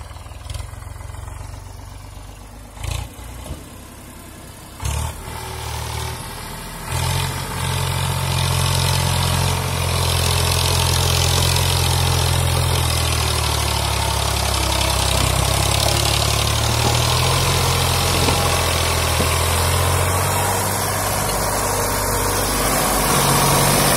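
Deep, steady engine rumble of Eicher 557 and Eicher 485 tractors running under load in third low gear, a continuous low drone with a few knocks early on, close and loud throughout.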